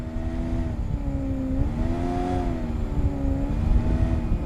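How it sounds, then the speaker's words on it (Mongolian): A car engine in the PUBG Mobile video game drones steadily with rising and falling pitch as it drives, a continuous moderately loud whir with no voices over it. "Машин дахиад машин яваад байна."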